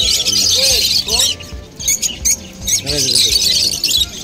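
Hand-tame lovebirds at a Kolkata exotic pet bird market give several sharp, harsh squawks and chirps close by, in short bursts amid busy background noise and voices.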